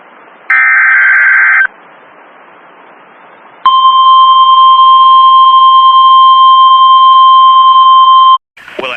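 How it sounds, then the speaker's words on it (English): NOAA Weather Radio warning alarm: a loud, steady electronic tone sounds for about a second, goes quiet briefly, then a long piercing single-pitch tone holds for nearly five seconds before cutting off. "we'll activate the warning alarm tone for hazardous watches and warnings for the following counties"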